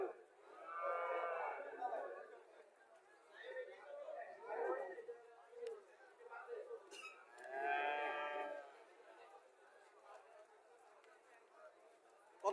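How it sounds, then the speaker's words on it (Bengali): A native cow lows with drawn-out moos at a busy cattle market in Chauddagram, Comilla, heard twice among people talking and bargaining nearby. "বাছুরটা 4 বছর দেশি গাবি।"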